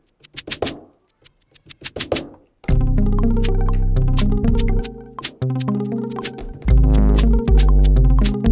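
Shaker engine on a Native Instruments Maschine+ standalone groove box (2020), shaken percussion hits at first, then a dense loud pattern with layered synth tones and bass carrying through to the end, no talking.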